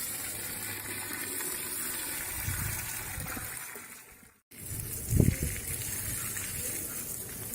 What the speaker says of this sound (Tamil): இப்போ வந்து 1 விட்டு 1 நாள் தண்ணி இந்த மாதிரி நல்லா சதாம்பாக ஊற்றினோம்னா செடிக்கு தேவையான தண்ணி கிடைக்கும்